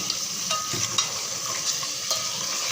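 Half a kilo of chicken and about half a kilo of peas frying in a pan for pulao, giving a steady close sizzle with occasional soft scraping stir sounds, no voices.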